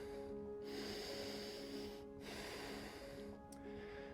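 Slow, audible breaths while a yoga chair pose is held, with three soft nasal exhales spaced a second or so apart, faint and close, over quiet background music.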